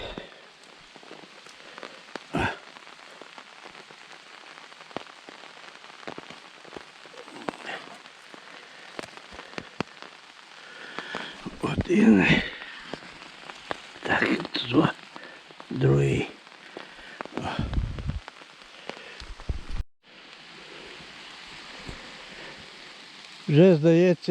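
Steady rain patters on surfaces in a Carpathian mountain forest, with scattered drips and a few louder taps; a person talks intermittently over it.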